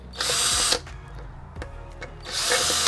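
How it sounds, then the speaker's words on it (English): A power drill drives screws to fasten an electric skateboard ESC onto a heatsink, giving two loud close whirring bursts with a quiet gap of small clicks and handling noise between. "we're going to try to screw the whole ESC down"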